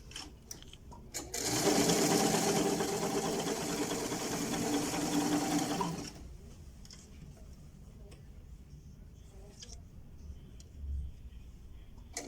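A Singer 875 sewing machine, being checked after a thread tension adjustment, stitches in a loud, steady whirring run of about four and a half seconds, then stops, leaving faint ticks and quiet room noise.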